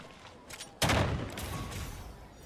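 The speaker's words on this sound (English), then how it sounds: "Gunshots." Gunfire from a character's attack in Genshin Impact: a sudden loud burst of shots lands about a second in, then trails off into a rattling, echoing tail, with faint game sounds before it.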